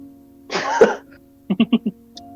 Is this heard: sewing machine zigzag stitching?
no